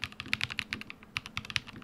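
Someone types on a modded Razer mechanical keyboard, producing quick, uneven bursts of crisp, close-up keystroke clacks with short pauses between runs and no speech.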